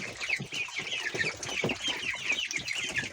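Chickens clucking steadily in a farmyard where young chicks and ducklings are feeding and drinking, a busy, continuous run of close clucks with no talking.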